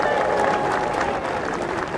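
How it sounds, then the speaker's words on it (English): Crowd applauding a polo player after the Cartier Queen's Cup final, a dense, steady wash of clapping from a large outdoor audience, with a voice and whistle-like tones faintly mixed in. "A big hand of applause for Facundo Perez."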